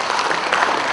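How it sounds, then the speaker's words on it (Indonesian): Brief burst of audience applause at a university public lecture, dense steady clapping filling the whole second without any voice over it. "Tepuk tangan dulu"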